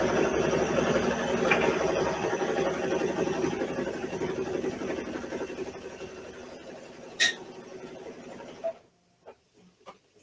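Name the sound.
sewing machine stitching fabric for mug rug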